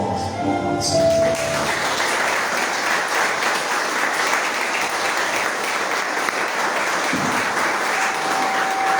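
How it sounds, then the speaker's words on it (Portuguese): A congregation bursts into sustained applause during a Pentecostal church service, starting after a brief musical tone and holding as a broad, even wash of clapping to the end. "acho que as palmas vão acontecer."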